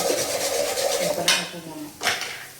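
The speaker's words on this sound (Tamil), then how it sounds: "2 முட்டையை போட்டுக்கிறோம் நாங்கள். அவ்வளோதான், இப்போ நல்லா கலக்கி விட்டுருங்க." Eggs are stirred into chicken fried rice in a pan. Close scraping and rubbing of a utensil over the food runs under a low sizzle, with two louder metallic scrapes partway through.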